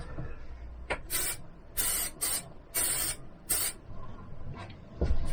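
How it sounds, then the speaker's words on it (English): Several short hissing bursts from a spray can, close and fairly loud, each a second or less, with brief pauses between them. "So I'll spray this one first."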